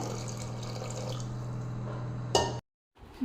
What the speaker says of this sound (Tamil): நான் வந்து இன்னொரு அரை டம்ளர் தண்ணி சேர்த்துறேங்க